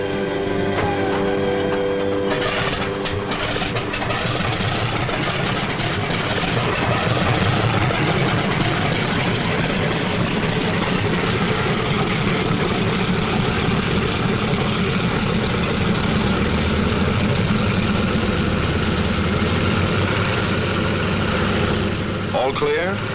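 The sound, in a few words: WWII fighter aircraft engines during takeoff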